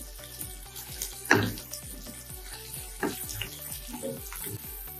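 Mushrooms with black pepper and salt are stirred in a pan, giving a low sizzle under repeated spatula scrapes and taps, one louder scrape early on, all fairly quiet.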